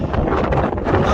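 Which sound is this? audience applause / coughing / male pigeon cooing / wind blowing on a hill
wind blowing on a hill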